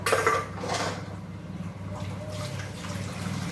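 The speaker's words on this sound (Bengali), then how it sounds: "আমি বাসন মেজে ধুয়ে নিই" Dishes, pots and pans being washed in a home kitchen sink, with clattering clinks of metal and ceramic over running water, loudest at the start and then continuing more softly, with no talk.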